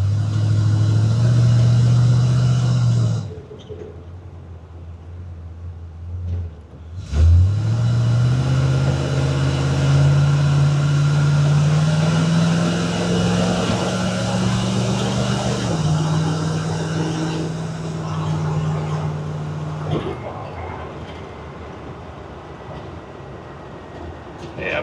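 A 1977 Toyota Land Cruiser creeping through traffic, its engine droning loud and close, dropping away for a few seconds, then revving back up and holding a steady rising hum.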